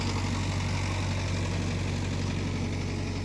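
A Mahindra Yuva Tech+ 585 tractor engine works under load while ploughing, a steady, close, low rumbling drone that holds even and continuous throughout with no talk.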